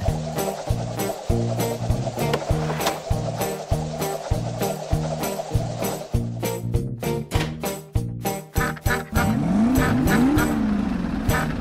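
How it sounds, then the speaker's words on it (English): A cartoon school bus engine in a children's song starts up with a rapid rhythmic rumbling putter, followed by a squealing, revving tail, loud and close with a lively musical beat underneath. "The engine."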